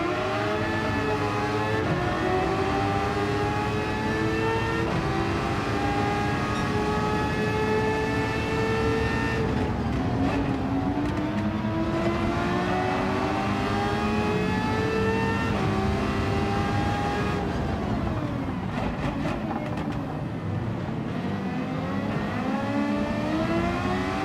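A tuned 800pp car in a racing game runs flat out down a long straight. The engine drones loudly and steadily, its pitch climbing through each gear, with brief dips at the shifts.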